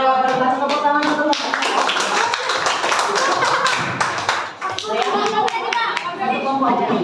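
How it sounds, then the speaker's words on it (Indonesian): Schoolchildren in a classroom clap hands in a rapid, sustained burst, loud and close, with children's voices chattering over and around the applause. "Tepuk tangan dulu."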